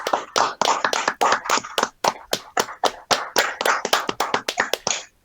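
A small studio audience claps in quick, distinct, fairly close hand claps, sustained for about five seconds with a loose rhythm before stopping abruptly.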